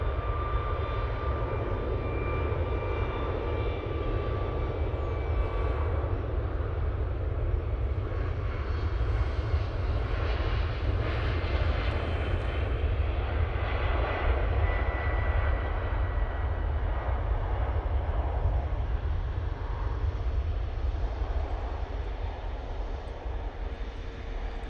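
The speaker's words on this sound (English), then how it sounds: "Malta Air 737 MAX 8 now on the roll." A Malta Air Boeing 737 MAX 8 takes off from Manchester Airport, its engines a loud, sustained rumbling roar heard from a distance that holds steady throughout with a slight swell midway.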